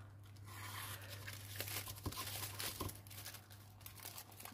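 A package being opened by hand, with paper crinkling and tearing in a series of irregular crackly bursts and rustles over a low steady hum, close up with no speech.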